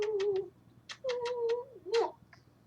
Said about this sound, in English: This is my other cat, Belle.